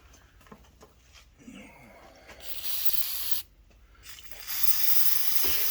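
Loud hissing aerosol penetrating oil spray in a few sustained bursts, with quieter gaps and faint handling noises between them, applied to a Kohler Command Pro 20HP engine's flywheel-side shaft seal.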